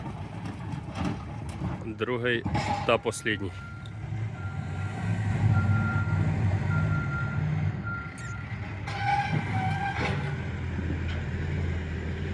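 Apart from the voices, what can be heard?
tractor working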